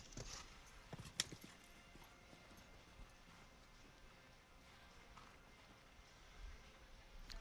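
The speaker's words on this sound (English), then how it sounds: "Still very keen, this horse." A horse's hooves canter across a show jumping arena at a Grand Prix event, faint and somewhat distant clip-clops in a steady rhythm, with one sharper knock early on.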